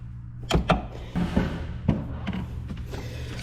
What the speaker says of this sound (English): The noise you're hearing is me trying to stand on a bucket